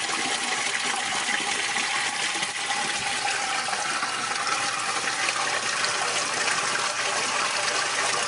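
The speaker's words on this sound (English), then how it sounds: "And out comes my RO water" Reverse-osmosis water pours steadily from a hose into a home fish tank, a continuous broadband gush and splash holding even for the whole stretch with no voices.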